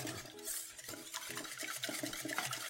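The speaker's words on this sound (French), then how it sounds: "Allez, on mélange tout ça." Spaetzle batter seasoned with pepper and nutmeg being mixed in a bowl, a steady soft stirring and scraping with light utensil clinks throughout, close and alone without talk.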